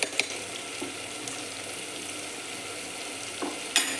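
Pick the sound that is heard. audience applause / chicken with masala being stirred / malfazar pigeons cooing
chicken with masala being stirred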